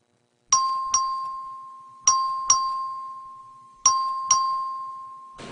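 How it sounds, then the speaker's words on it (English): Bright electronic voting bell chimes in a legislative chamber sound in three pairs of two strikes, each ringing tone decaying slowly, with silence before the first pair. "The clerk ring the bell."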